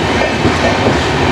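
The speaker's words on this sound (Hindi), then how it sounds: "Kota Sriganganagar superfast express" The Kota–Sriganganagar Superfast Express runs on rails with a loud, close, continuous rumble and clattering wheel noise, and no voices are heard.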